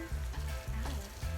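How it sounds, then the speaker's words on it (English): A garden hose sprays water outside onto plants, a hissing spatter that pulses in short regular bursts, heard from indoors. "Our dad is just watering the plants out there"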